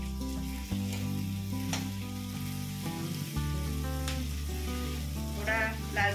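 Chopped onion fries in a pan for a leftover roti chivda, a soft continuous sizzle sitting beneath prominent background music throughout.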